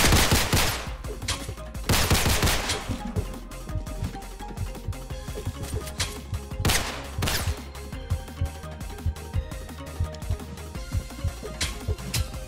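Rapid gunfire in the Roblox game Criminality: loud, dense bursts of shots and automatic fire crowding the opening seconds, then thinning into scattered, sharp reports that keep going to the end.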